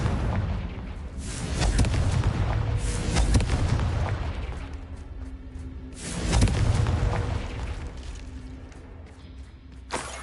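Confringo spell blasts in the Hogwarts Legacy video game burst out as heavy booming explosions, two big surges of rumbling blast noise with crackling debris and whooshes rolling continuously across the scene.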